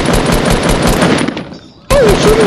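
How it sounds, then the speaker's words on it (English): Sustained loud automatic gunfire in Fortnite tearing down a building, a dense rapid barrage that cuts out briefly and then resumes, with a voice over the shooting. "you're shooting down a building!"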